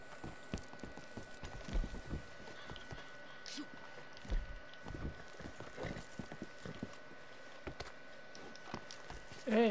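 Horse hooves clip-clop in Red Dead Redemption 2, a game set in the Old West, as a steady string of soft, close thuds on the ground, partly under people talking.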